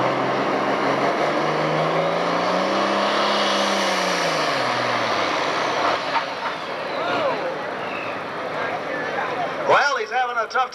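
A John Deere pulling tractor at a 1996 Freeport, Illinois tractor pull, its engine roaring loud with a rising and falling pitch sweep, then sharper bursts near the end, heard under an announcer's voice over the loudspeaker.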